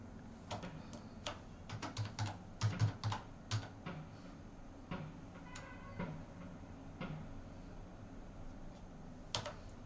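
Intermittent clicking of keys on a computer keyboard while a certificate number is entered into a scholarship form online, soft and close, in uneven bursts that thin out toward the end.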